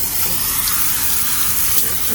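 Water misted from a spray bottle onto a child's hair as it is dampened, a steady close hiss lasting the whole stretch with no voices.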